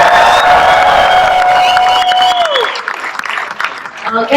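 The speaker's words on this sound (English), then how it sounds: "Make some noise by round of applause" Studio audience at a celebrity Liars Club comedy game show bursts into loud, sustained applause and cheering, with a long whistle and whoops over dense clapping that thins slightly toward the end.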